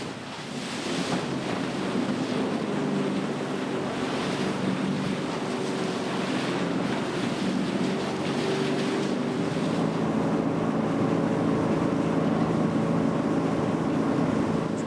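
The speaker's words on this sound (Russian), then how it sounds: "катер, перескакивая с порога на порог, поднял нас на 250 метров" A motor boat on the Katun River in Altai climbs over rapids, its engine droning steadily beneath loud rushing water and wind buffeting the microphone, continuous and close for the whole stretch with no speech.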